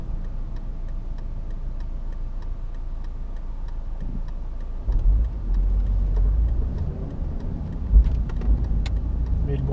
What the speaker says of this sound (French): le bruit du 4 cylindres de la E46, il n'y a rien de sportif